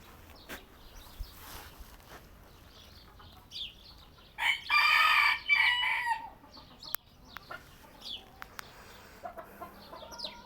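A backyard rooster crows once, loud and close, a long drawn-out call standing out over a quiet farmyard background with a few faint clucks and scattered small sounds.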